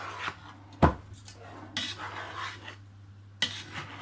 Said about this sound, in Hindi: इनको आप अच्छी तरह ऐसे मिक्स कर लेना